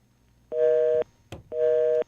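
Telephone busy tone on a radio call-in line after a caller's call drops: two steady half-second beeps separated by a pause, with a short click between them, heard clearly with no talking.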